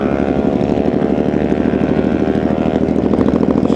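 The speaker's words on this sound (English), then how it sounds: "Sorry about the noise, we've got a 125 with a slash-cut blunderbuss of an exhaust on ER." A 125cc motorcycle with a loud slash-cut exhaust idles and revs nearby at a bike night, a harsh, steady, rapid engine drone that rises slightly toward the end.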